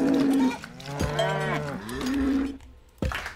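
Cows on a cow farm in the video game Citadelum moo in several long, low, drawn-out calls, fairly loud and close, with a faint cowbell clank near the end.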